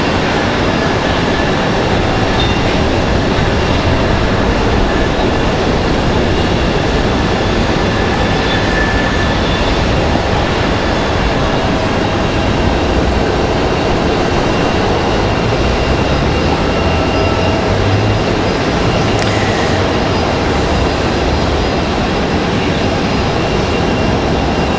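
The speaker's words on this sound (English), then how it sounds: "Southwest coming in from Denver, 2 hours, 51 minutes of flight time for that" Southwest Boeing 737-800 arriving at Raleigh Durham International from Denver, heard as a loud, constant broadband jet rumble with a faint engine whine running steadily through the whole stretch, and no voices.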